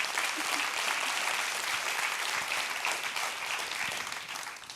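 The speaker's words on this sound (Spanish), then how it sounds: "Usted aplauda lo que quiera" A church congregation applauds during a sermon, with steady, continuous clapping from many people heard at moderate distance, tapering slightly at the end.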